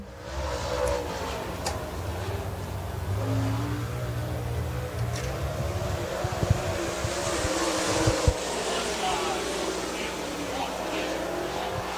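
Super late model race car on its qualifying lap at Dixie Speedway, engine drone rising and falling steadily through the clip with a couple of sharp pops near the end, overlapped by a public-address announcer talking.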